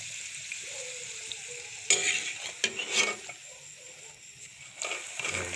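A steady low sizzle of paratha frying in hot oil, broken by a few sharp spattering bursts and light clanks of a utensil against the pan, moderately quiet.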